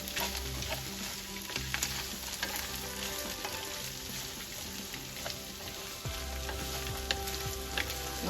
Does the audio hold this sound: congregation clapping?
no